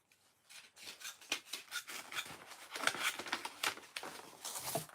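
Scissors snipping off an extra paper flap, a quick run of close, crisp cuts and rustling paper.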